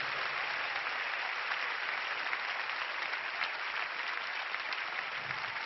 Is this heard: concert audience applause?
yes